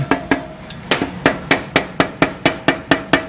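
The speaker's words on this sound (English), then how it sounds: "I'm going to take a dead blow hammer and just tap on the side here" A dead blow hammer taps on the side of an SC Project motorcycle exhaust being fitted to a 2018 BMW S1000RR, making about a dozen sharp, evenly spaced knocks close by, with no talking.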